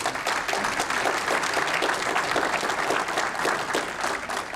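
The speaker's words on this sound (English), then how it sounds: "Help me give him a round of applause." Steady, full applause from the audience at a county candidates forum honoring the evening's facilitator, Dr. Michael Ryman, a dense even wash of many hands clapping with no talk over it.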